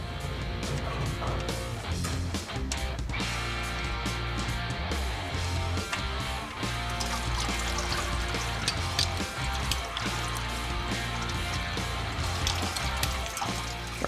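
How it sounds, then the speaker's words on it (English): Transmission oil draining from a Nissan Patrol's transmission pan, a steady continuous liquid trickle and splatter running throughout with faint intermittent clinks, no talking. "All right, we're going to drain the transmission."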